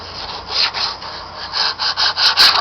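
Hand sanding on a car bumper, a steady series of rhythmic back-and-forth scratchy strokes growing stronger and quicker toward the end, close and alone.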